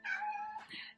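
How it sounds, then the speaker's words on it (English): A cat meows once close by, a drawn-out rising-then-falling call lasting about a second, heard alone in a quiet indoor room. "We're just gonna have meowing in the background."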